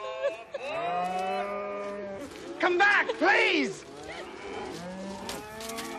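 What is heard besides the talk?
cattle mooing during a cattle drive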